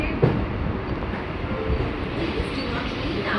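A Mumbai local train runs between CSMT and Karjat, giving a loud, continuous rumble and rattle from inside the nearly empty carriage, with no clear speech.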